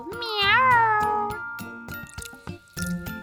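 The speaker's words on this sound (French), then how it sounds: "C'est un chat!" Cartoon cat meowing in a children's animation: a long, rising-and-falling meow up front, then a few shorter mews over light music with soft dripping taps.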